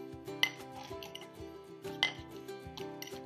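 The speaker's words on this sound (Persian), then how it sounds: "با مادلرمون اینا رو میکوبیم." Repeated dull knocks and taps of a muddler crushing lime, mint and sugar against the bottom of a glass, in an irregular rhythm, close and fairly quiet.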